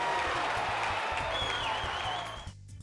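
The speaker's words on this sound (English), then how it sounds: "Insert audience clap." A canned audience applause sound effect, dense and steady and loud for a couple of seconds before tapering off abruptly near the end.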